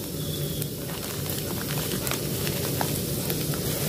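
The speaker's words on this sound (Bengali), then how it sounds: "এবার বাদাম আর নারকেলটা ভেজে নেবো।" Peanuts and coconut frying in hot oil in a wok with a pinch of salt, giving a steady, dense sizzle that holds evenly throughout, close and moderately loud with no voices.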